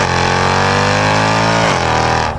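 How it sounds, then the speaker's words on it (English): A powerful sports sedan engine roars loudly and steadily while accelerating, its pitch holding high before dipping briefly and climbing again, close by with no talking. "it's going to sound absolutely insane while you're accelerating"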